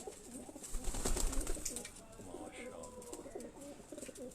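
An old pigeon at a rooftop loft in Rawalpindi coos in soft, low, rhythmic calls. Faint talk and other quiet background sounds run underneath.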